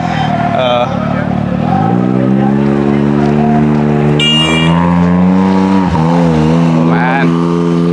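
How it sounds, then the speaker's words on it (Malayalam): A powerful Dakar Rally car engine roars loudly and steadily, pitch climbing through gear changes, with a brief dip and rise near the end. "സൗണ്ട് കേട്ടോ വണ്ടിയുടെ, ഒരു രക്ഷയില്ല അല്ലേ?"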